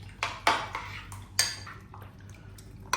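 Raw chicken pieces with egg, salt, pepper and soy sauce being mixed in a bowl, giving quiet intermittent clinks and scrapes of a utensil against the bowl, with a low background hum and no speech.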